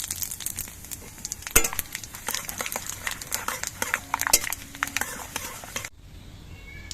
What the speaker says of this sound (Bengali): এর মধ্যে একটু বেশি করে পাঁচ ফোড়ন ফোড়ন দিয়ে দিচ্ছি